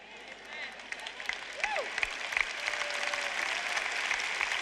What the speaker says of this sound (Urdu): آپ میں سے کچھ لوگوں نے پہلے منہ بنائے اور پھر تالیاں بجائیں